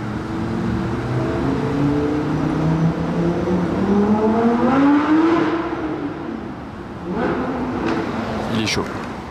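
Hypercar, likely an Aston Martin Valkyrie, accelerating along a road: a loud rising engine drone climbs through gears, eases, then surges again with sharp revs near the end.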